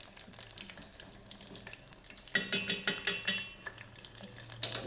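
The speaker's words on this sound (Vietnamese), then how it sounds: "tôm này mình phải chiên ngập dầu các bạn nhé" Batter-coated shrimp deep-fried submerged in hot oil give a steady close sizzle that grows louder midway with rhythmic bubbling surges, no talk.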